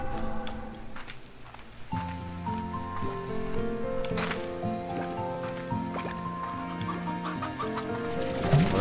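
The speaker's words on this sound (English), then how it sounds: "Well, that's a stony hen again." Stony hens cluck in the video game Slime Rancher 2, scattered short calls over steady game music and a soft rain-like ambience.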